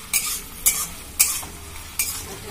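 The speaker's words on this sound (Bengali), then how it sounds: "আজকে প্রথমে আমি পেঁয়াজ রসুন আদা ভাজবো" Onion, garlic and ginger fry in a pan with a steady sizzle, and a spatula scrapes through them in four distinct strokes spaced about half a second apart.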